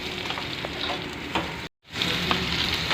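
Slices of eggplant (baingan) fry in a little oil, a loud close even sizzle and crackle that cuts out for a moment before resuming.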